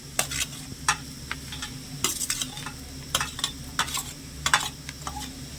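Jackfruit fries in spiced oil as boiled potato is stirred in, with a soft background sizzle under a run of sharp, irregular spatula scrapes and taps against the pan.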